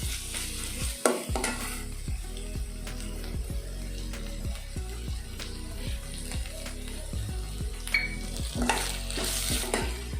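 Curry leaves sizzle in hot oil in a pan while cooking a Tamil drumstick flower poriyal, a loud crackling fry broken by repeated rhythmic scrapes of a spoon stirring against the pan.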